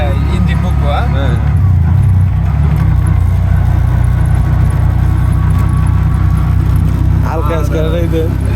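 Idling and running engine of a CNG auto-rickshaw held in second gear on a road near Sreemangal, a steady low drone throughout with people talking over it.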